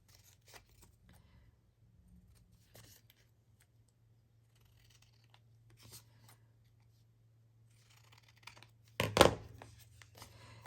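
Scissors trim a paper hinged journal card in a quiet room, a few soft, sparse snips and paper rustles over a low hum, ending in a louder burst of cutting and handling near the end.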